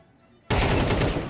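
Automatic weapon fire in Counter-Strike 2 bursts in abruptly after a quiet moment, a loud rapid stream of close shots with a fast regular pulse that carries on to the end.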